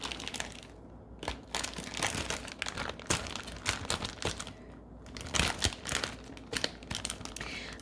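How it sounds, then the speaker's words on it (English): Paper craft pieces being cut and trimmed by hand, giving repeated close crinkling and crunching snips in irregular bursts, with short quiet gaps between cuts. "Let me cut that one down a little bit more."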